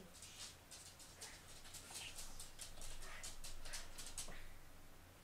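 A dog whimpering and yipping in a run of short high-pitched cries, faint and somewhat distant over low background noise.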